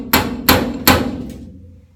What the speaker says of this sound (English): This is where I'm going to use the slide hammer,